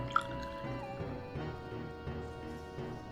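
Warm soda poured slowly into a container, soft trickling and dripping with a small clink near the start, quiet and close.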